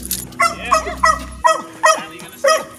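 Several dogs bark in repeated short yips and woofs, about six sharp bursts spaced roughly half a second apart, fairly close and loud, with a low steady hum beneath the first half.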